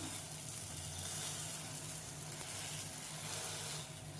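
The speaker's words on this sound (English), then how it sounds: "we have to give some time, friends, for one side to get cooked so that we can flip it." An aloo paratha cooking on a hot pan over a gas stove, giving a soft, even, continuous sizzle throughout with no other sounds.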